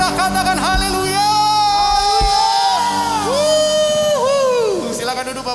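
A church congregation at a Sunday worship service shouting hallelujah together, a loud, sustained mass of voices rising and falling in drawn-out cheering whoops, close and overlapping.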